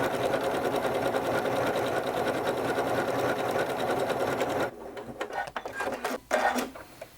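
A sewing machine runs steadily on a utility stitch along a quilt seam, a fast even mechanical whir for several seconds, close up, then stops and gives way to a few soft handling clicks and rustles.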